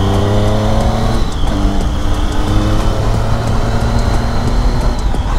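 A motorbike rides along the road toward the Atal Tunnel, its engine a steady, close drone with constant wind rush for the whole stretch and no voices.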